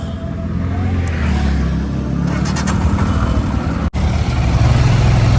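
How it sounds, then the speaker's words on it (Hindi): Car engines idle and creep in a Nainital traffic jam, forming a close, continuous motor rumble with a brief dropout near the end, then a low steady hum. "नैनीताल में इस टाइम तक भी ट्रैफिक लगा हुआ है।"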